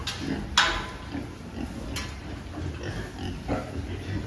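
Grower pigs of about 30 kg, crowded in a pen and hungry for feed, grunt and oink in short bursts over a busy barn background, with occasional clanks and soft rustling.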